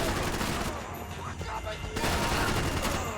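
Dual-wielded guns firing in the video game Max Payne 3, rapid bursts of dense gunshots close up, with a brief lull in the middle before the firing resumes.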